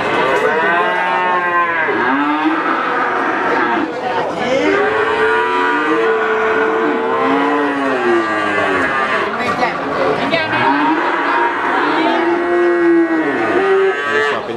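Calves lowing over and over at a busy cattle market at Pasar Paing Winong, several overlapping moos rising and falling close by, with faint crowd chatter in the background.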